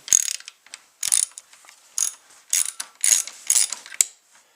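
A ratchet wrench loosens the fuel tank bolts on a 2015 KTM 690 Enduro R ABS motorcycle in close, loud bursts of rapid clicking, each separated by short pauses.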